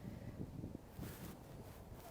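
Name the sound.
wind blowing into the microphone outdoors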